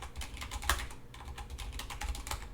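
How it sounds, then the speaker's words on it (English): Typing on a computer keyboard while entering form fields, a steady run of close, crisp key clicks with brief pauses and no talk. "Let's type in our stuff again."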